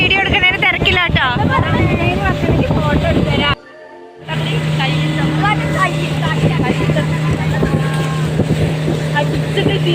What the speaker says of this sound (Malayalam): ഇതാണ് ബാണാസുരയുടെ ബോട്ട് എക്സ്പീരിയൻസ് ആണ്. Speed boat എക്സ്പീരിയൻസിലാണ്.